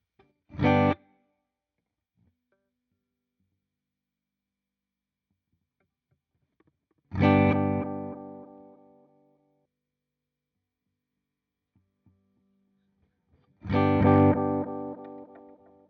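Three separate guitar strums through a tape-style delay pedal ring out, spaced far apart, each followed by a fading smear of delayed repeats that trail off into silence.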